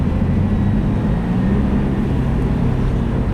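A 2015 Subaru WRX turbo engine with a Stage 1 tune drones loudly, its low rumble shifting as it slows through downshifts, with no voices.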